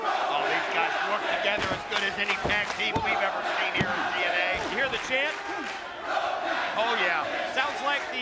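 A TNA wrestling crowd chants for the AMW tag team, a rhythmic roar with sharp slams from the ring cutting through and an announcer talking over the noise.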